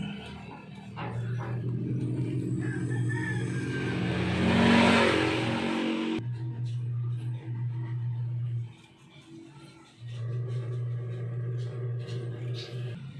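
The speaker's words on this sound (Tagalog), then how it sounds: "Ayan, timing gear niya, malog." Car engine with a loose, rattling timing gear runs steadily close by, a low droning hum with a busy clattering texture, briefly dipping before resuming, with people talking over it.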